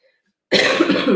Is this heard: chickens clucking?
no